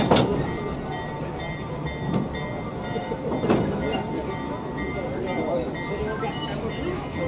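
The Georgetown Loop Railroad train rolls along its rails with a steady rumble, occasional clinks and faint wheel squeals, and someone speaks over the noise as a guide.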